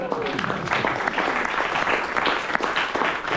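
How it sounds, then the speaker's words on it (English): A Toastmasters club audience in Singapore applauds champion Ernest Chen, bright, dense clapping with sharp individual hand-claps standing out, lasting about three seconds, with faint voices mixed in. "Let's give him a round of applause."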